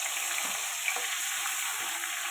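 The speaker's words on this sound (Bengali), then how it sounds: "পেঁয়াজ দিয়ে দিলাম" Onions fry in hot oil in a pan for an egg and potato curry, giving a continuous even sizzling hiss, close and steady throughout, with no talking.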